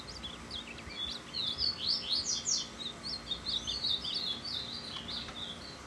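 A caged azulão songbird gives a rapid series of bright, high chirps and warbling notes, clear and fairly close, with no talk.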